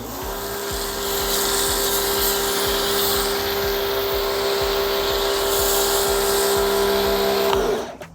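An electric pressure washer motor runs steadily and loudly for several seconds, with a continuous hum and rapid pulsing from the pump as foam sprays onto a vehicle, then winds down at the end.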